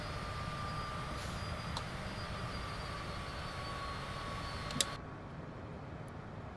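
Steady droning engine hum in Microsoft Flight Simulator 2024, holding even before a click and a slight drop in brightness near the end, as the throttle eases back.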